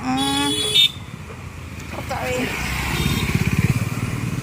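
A vehicle horn blares loudly for under a second on a main road in Chennai, then a motor vehicle's engine rumbles past close by with a pulsing, building drone.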